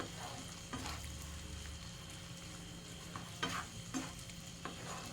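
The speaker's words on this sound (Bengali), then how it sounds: "ভালো করে কষিয়ে নিতে হবে।" Chicken stirred and sautéed in spiced masala in a pan, with a steady soft sizzle and a few louder scraping stirs near the end, no voices.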